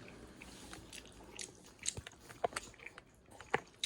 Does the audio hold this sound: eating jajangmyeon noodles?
yes